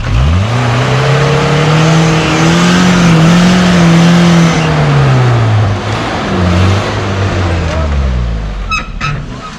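An off-road vehicle engine revs loud and close while wheeling in snow, holding a steady drone that rises and falls, then eases off near the end with a few small clicks.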